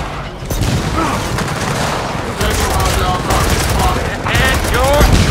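Rapid bursts of gunfire and explosions fill a Gears of War 4 firefight, dense and loud throughout with broken shouted voices mixed into the battle.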